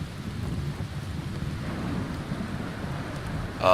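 Steady rain pours with a low thunder rumble during a thunderstorm in the Skyrim video game, a continuous dense wash with no voices.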